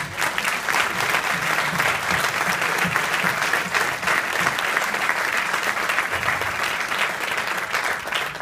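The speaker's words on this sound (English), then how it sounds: "So can we give him a round of applause?" Sustained audience applause fills a school alumni award speech, dense steady clapping from a crowd with no break, loud and continuous throughout.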